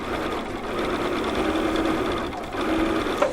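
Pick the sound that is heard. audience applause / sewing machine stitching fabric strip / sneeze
sewing machine stitching fabric strip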